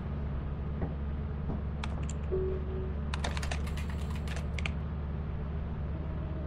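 Keys are typed on the terminal keyboard in the video game Lethal Company, a short run of light clicking taps over a steady low hum of background noise.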